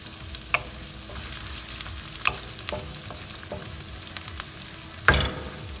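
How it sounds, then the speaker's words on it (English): Chicken pieces with ginger sautéing in a hot pan for green chili chicken, a continuous close sizzle broken by occasional sharp spatula clicks and scrapes against the pan. "my pieces of chicken so it can move around with the ginger. Well, saute this."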